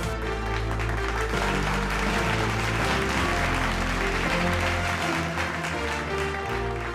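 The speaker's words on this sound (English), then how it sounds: "can we have a damdar round of applause? Let's hear it for Tata Steel." Award ceremony audience at the Indian Legal Awards applauding the winner, Tata Steel: loud, sustained crowd clapping over steady music, continuous and dense for the whole stretch.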